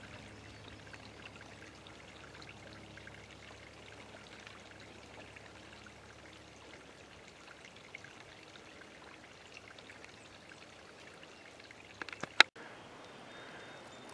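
A river flows through Missouri woods as a soft, continuous rush of water, faint and steady throughout, with a few sharp knocks and clicks near the end.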